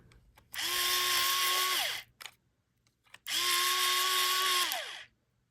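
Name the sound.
electric pencil sharpener sharpening coloring pencils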